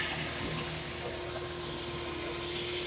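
Steady droning whir of a Bissell Lift-Off vacuum cleaner running continuously while picking up dirt, loud and close with no pauses or voices.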